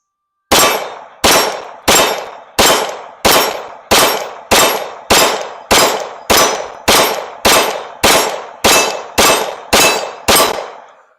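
Sharp metallic clangs of a Glock 45 pistol hitting steel targets, fifteen evenly paced shots about two-thirds of a second apart, each ringing briefly before the next, loud and alone.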